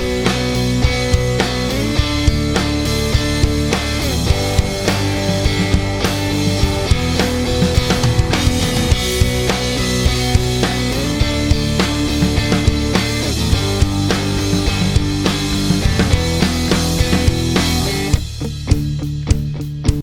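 A full song mix of just drums, bass and guitar plays continuously, loud and dense with steady drum hits under sustained guitar and bass, no voices.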